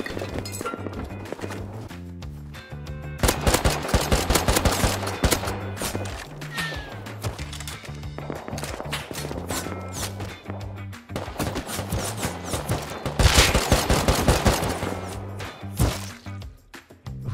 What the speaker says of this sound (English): whoever is outside my base shooting SAR and P2